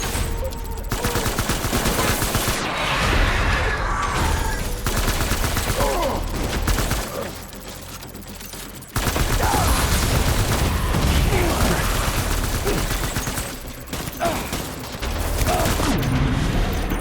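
Heavy gunfire in the video game Death Stranding: sustained loud bursts of automatic fire and booms that continue almost nonstop, with a short quieter lull in the middle.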